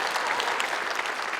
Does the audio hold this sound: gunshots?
no